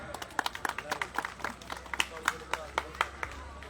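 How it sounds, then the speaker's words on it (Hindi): Claps ring out at a Raj Tilak 2025 club event as someone is honoured, sparse and uneven slaps that pick up into a loose patter, faint and somewhat distant, with a low steady hum beneath. "जोरदार ताली हो जाए"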